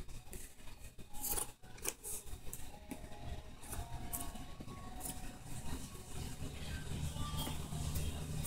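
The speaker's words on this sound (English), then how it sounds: "go back with your scissors to get anything that didn't really" Scissors snipping fabric while trimming a ruffle maxi skirt after rotary shears, a series of faint close crisp cuts with soft rustling, no talk.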